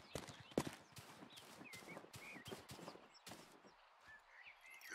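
Sharp horse hoof clops in an irregular trotting rhythm in the video game Rustler, fairly close, with a few soft higher chirps and whistles in the background.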